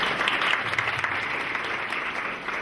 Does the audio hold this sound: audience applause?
yes